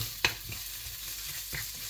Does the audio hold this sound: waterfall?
no